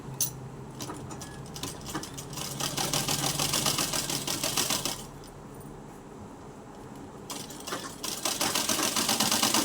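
Domestic sewing machine running steadily as it stitches folded satin cloth and lining together for a net petticoat, a fast mechanical whir with a brief pause midway before stitching resumes, close and alone.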